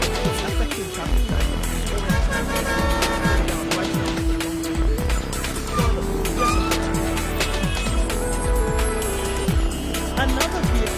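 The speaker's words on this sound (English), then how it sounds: "the traffic is so loud" Loud, dense road traffic passes continuously, with vehicle engines roaring and repeated whooshes of cars going by close at hand, plus occasional squeals and a few faint voices mixed in.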